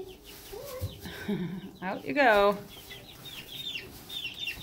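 Chickens cluck and squawk inside a cage, with one loud burst of alarmed calls near the middle and softer clucking around it, while a person speaks briefly.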